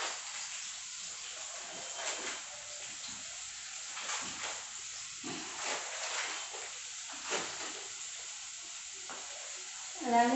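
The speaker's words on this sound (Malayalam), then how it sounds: "സവാള ഇട്ട് ഇത്തിരി ഒന്ന് വഴണ്ട് വരട്ടെ" Sliced onions sauté in a pan in a home kitchen, giving a soft, low sizzle with intermittent stirring scrapes, fairly quiet and close, with a brief louder clatter at the end.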